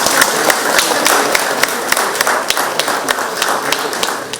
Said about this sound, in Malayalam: ആഹ്ലാദാരവങ്ങളോടെയാണ് വിദ്യാർത്ഥികൾ മോഹൻലാലിനെ സ്വീകരിച്ചത്